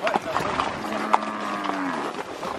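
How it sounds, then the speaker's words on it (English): Cows on a farm low about two times, a drawn-out moo rising and falling over roughly two seconds amid steady outdoor background noise, with faint voices nearby. "We got the cows over there."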